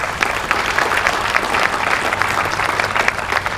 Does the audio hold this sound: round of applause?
yes